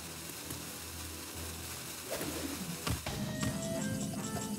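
A Hearthstone albatross card plays its effect, a layered game sound with a bird coo and sizzling texture that swells near the middle and carries on at moderate volume.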